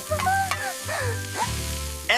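Oil sizzles steadily in a frying pan on a home stove, a continuous close crackle with faint tonal sounds running beneath it.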